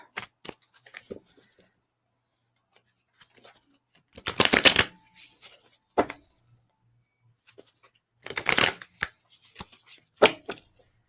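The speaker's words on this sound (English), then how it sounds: "I'm shuffling these up." Tarot cards being shuffled in several quick riffling bursts, crisp and close, with short pauses and a few light taps between them.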